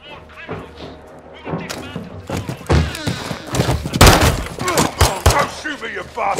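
Gunfire rattles through Call of Duty: Modern Warfare 2 (2022) in loud, close bursts of sharp shots and thuds, with voices talking over the firefight.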